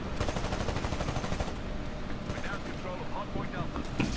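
Rapid gunfire in the first-person shooter game Titanfall, dense bursts of automatic shots rattling continuously and loudly throughout, with sharper single cracks near the end.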